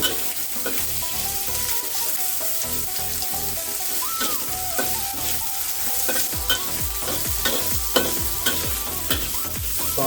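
Sliced ginger sizzles in hot oil in a wok being stir-fried for a lamb brisket pot, a loud continuous close frying hiss with frequent scraping and clanking of a spatula against the pan.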